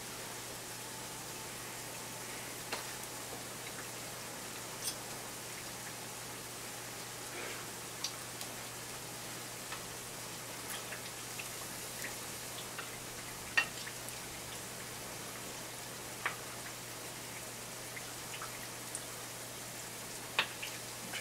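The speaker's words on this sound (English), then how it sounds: "it's just raining real hard" Heavy rain pours down outdoors during a thunderstorm, a steady soft hiss of falling water with scattered faint ticks and drips, even and low in level throughout, with no voices.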